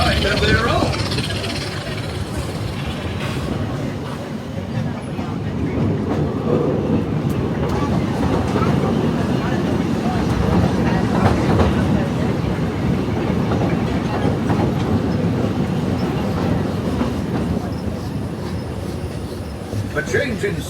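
Magic Kingdom railroad train rolling from Frontierland toward Fantasyland, with a steady clickety-clack rumble of wheels on track and occasional squeals, continuous and fairly close throughout, with voices talking over it.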